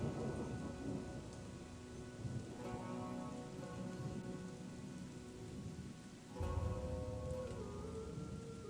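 Steady rain falls in the video game Chronicles of Myrtana: Archolos, with rolling thunder rumbling low beneath it and a fresh loud crack and rumble near the end, no voices.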